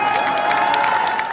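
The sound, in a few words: crowd cheering and applauding at election count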